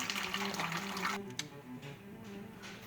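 Water from a punctured PEX plumbing line in a house under renovation hisses and splashes steadily, with a low hum underneath. The sound is faint and eases after about a second.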